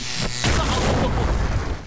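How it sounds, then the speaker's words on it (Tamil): A sharp cartoon phone explosion bursts out after a brief buzzy lead-in, then a loud rumbling crash that fills the rest and fades slightly. "என் போனு வெடிச்சுடுச்சு."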